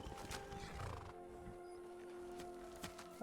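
Horse in the video game Skyrim giving a brief neigh, faint and quiet amid game ambience with a few clopping hoof sounds.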